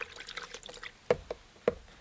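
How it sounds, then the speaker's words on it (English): A large watercolor brush dips into fresh clean water, giving a few small, close plinks and splashes spaced irregularly over a quiet background. "I'm going to get some fresh, clean water."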